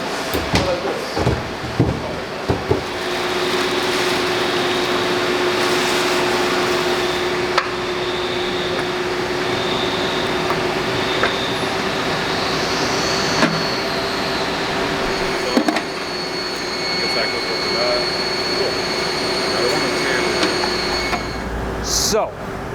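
A large Freddy Ecovac 200 industrial vacuum runs continuously close by with a steady whining drone, punctuated by a few knocks and clunks.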